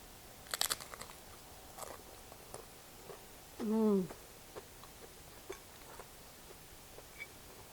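Biting into and chewing a tortilla filled with taco-seasoned ground beef and sweet potato, heard as soft, close crunchy snaps clustered early, then scattered quieter chewing clicks, with a brief hummed voice in the middle.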